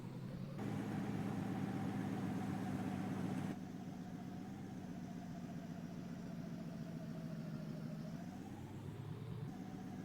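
A tuned Duramax pickup truck engine in Farming Simulator 19 drones steadily while driving down the road, a constant mid-pitched rumble with a brief louder stretch early on and a slight pitch rise near the end.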